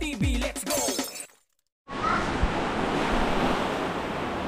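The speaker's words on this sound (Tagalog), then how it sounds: "sobrang lakas ng alon at ang ulan" Strong ocean surf and rain at sea in the central Pacific, a dense, roaring wash of breaking waves and wind that cuts out briefly after a noisy start, then returns loud and steady with no talk.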